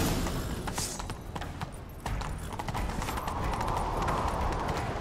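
Horse hooves clip-clop in a quick, steady rhythm in The Witcher video game set on Skellige, close and clear, with faint background game sounds.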